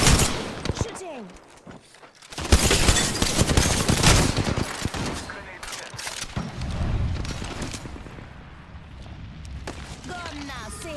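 Rapid gunfire from P2020 and Mozambique weapons in a battle royale video game, with loud bursts of shots and impacts across the clip, a short lull near the start, and a player talking over the action.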